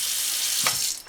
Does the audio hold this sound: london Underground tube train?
no